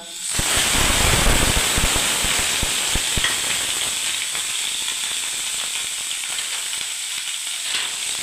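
Onion paste and ginger paste land in a hot pan of oil with a loud burst of sizzling that settles into a steady close hiss, with a few scraping stirs early on.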